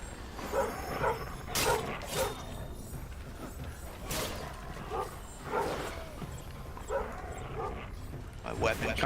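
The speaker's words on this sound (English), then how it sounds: "there's plenty of fucking dogs everywhere" Dogs in the video game Enshrouded bark, yip and whimper in repeated bursts throughout, while players talk over the noise.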